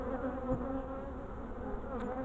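Honey bees buzz steadily and softly around an open Dadant beehive during a young queen inspection, a continuous close hum with no voices.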